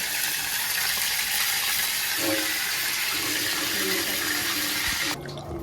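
Hands are washed under a running kitchen tap, a steady close hiss of splashing water that continues for several seconds before cutting off abruptly near the end, with no voices.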